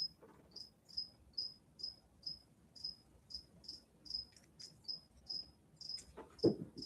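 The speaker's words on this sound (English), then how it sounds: "crickets in the background noise" Crickets chirp in short regular bursts about twice a second, high and thin over a quiet low background hum, with a faint noise near the end.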